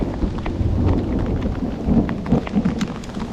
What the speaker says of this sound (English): The storm's coming right above me.